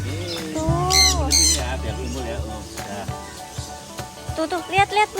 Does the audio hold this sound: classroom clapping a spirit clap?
no